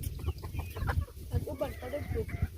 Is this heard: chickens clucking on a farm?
yes